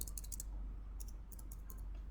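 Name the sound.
typing a web address on a computer keyboard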